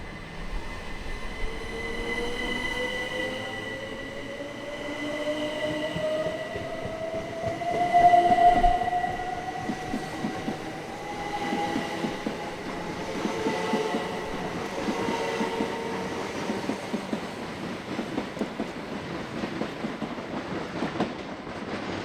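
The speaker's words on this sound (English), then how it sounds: "Five minutes later and the 1121 from Hastings is departing the platform." Electrostar electric multiple unit pulling out of the platform at Tonbridge station, a steady rising motor whine climbing in pitch over rolling wheel noise and rhythmic rail clatter, loud and close throughout with no talking.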